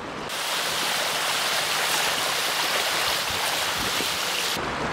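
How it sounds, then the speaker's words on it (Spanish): A small, gently flowing river running over rocks at a fishing spot, heard as a steady, full rush of water that fades in at the start and cuts off near the end, close and fairly loud, with no voices. "No es un río con mucha corriente"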